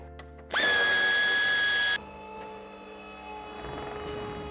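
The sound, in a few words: power screwdriver loosening bumper screw on BMW X3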